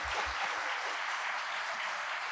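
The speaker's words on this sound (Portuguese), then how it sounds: "Uma salva de palmas para a Sônia Acar" Audience applause at an inaugural open lecture, a steady dense wash of clapping filling the whole stretch at even loudness, with no voices over it.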